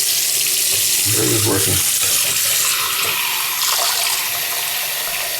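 Water pours steadily from a newly installed bathroom sink faucet into the basin, a constant close hiss with a brief spoken remark over it.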